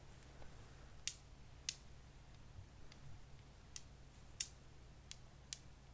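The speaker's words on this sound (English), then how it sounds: "These light sounds they make when they click together." Several light, sharp clicks spaced irregularly over a steady low hum, quiet and close, as Wiz Dice polyhedral RPG dice tap together in a hand.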